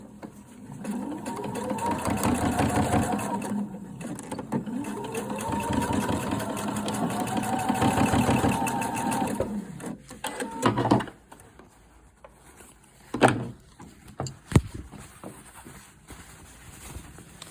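A sewing machine stitches the small triangles of a welt pocket. It gives a loud, close, rapid needle chatter with a motor whine that rises and falls in bursts for about ten seconds, then a few scattered clicks and handling knocks.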